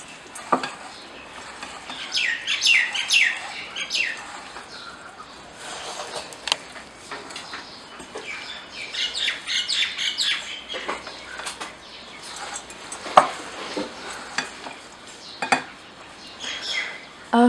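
A chickpea protein salad is stirred and mixed in a bowl, giving a steady close clatter of a spoon against the dish with scraping and light clinks throughout, no talking.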